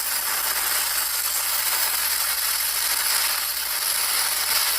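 MIG welding with a push technique and excessive heat, throwing spatter: a steady, loud, unbroken crackling hiss that runs throughout without pauses or voices.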